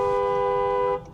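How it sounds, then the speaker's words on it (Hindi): Horn of a Toyota Camry 2.5 Hybrid luxury sedan, a single steady blast held for about a second with a rich, chord-like tone, close and loud, then cut off cleanly. "हॉर्न भी काफ़ी प्रीमियम एकदम लग्जरी कार वाला ही है"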